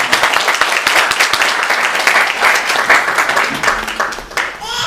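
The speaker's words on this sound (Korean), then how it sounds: "여러분 박수를 좀 격려해 주시면 좋겠습니다." A church congregation at a Sunday worship service breaks into loud, sustained applause right after a prayer, the clapping dense and steady before tapering off at the end.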